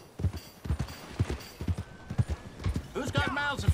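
A horse galloping in Red Dead Redemption 2, its hooves clopping in a steady, quick rhythm at moderate volume from start to finish.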